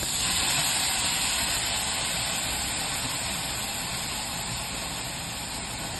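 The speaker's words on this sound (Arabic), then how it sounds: "في طاسة فيها زيت وزبدة ضفت بصلاية مبشورة" Grated onion fries in oil and butter in a pan, giving a loud, continuous close-up sizzle and hiss that stays even throughout.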